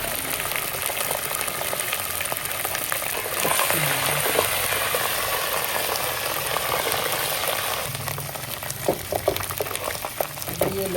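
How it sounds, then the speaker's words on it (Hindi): Water and ginger go into browned onions in a pot while cooking chicken daal. A steady sizzle and bubbling fills the clip, with stirring clinks and soft scraping near the end. No one speaks over it. "प्याज जब ब्राउन में थोड़ा पानी डालें, और पानी डाल के साथ में अब इसके अंदर डाल रहा हूँ अदरक।"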